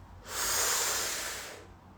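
One long, deep breath exhaled through the nose during a yoga breathing exercise, a close, airy rush that swells quickly, holds and then fades over about a second and a half, with no speech.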